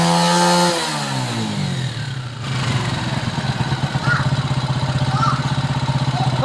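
A Honda 125 Special Edition motorcycle engine decelerates from a revving pitch, then idles and is gently throttled up in small rises, a close, loud, steady putter throughout.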